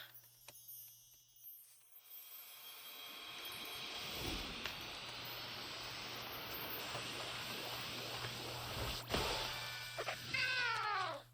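In the Cobblemon Minecraft mod, a Floragato evolves into Meowscarada: a building, shimmering electronic sweep with chimes, then a short cat-like cry at the end.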